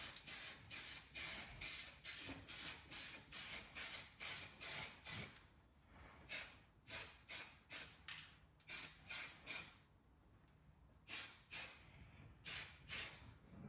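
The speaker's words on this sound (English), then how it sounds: "Just put some spray on, take all this glue off from the sound deadening" Quick bursts of aerosol spray hiss in rapid pulses over a car boot's leftover sound-deadening glue, some runs steady and others broken by pauses, close and clear with no talking.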